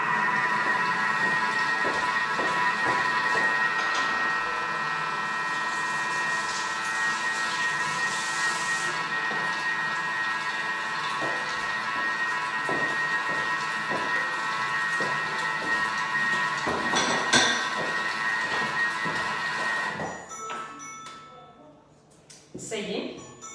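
A Thermomix runs in reverse mode at speed 4, mixing crêpe batter with fromage blanc for twenty seconds. It gives a steady whirring hum with a tonal whine, then stops near the end as a person talks nearby.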